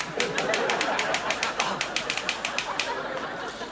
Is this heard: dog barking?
no